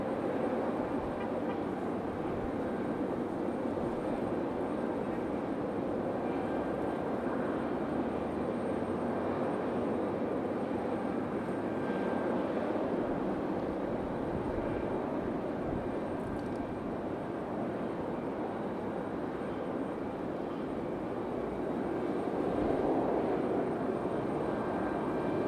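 Lufthansa aircraft taxiing at Raleigh Durham airport, a steady distant engine drone with a faint whine, holding even for a long stretch and swelling slightly toward the end.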